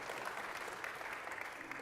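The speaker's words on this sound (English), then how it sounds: "round of applause for that" A crowd claps steadily in dense, even applause for a couple of seconds, with no break or voices standing out.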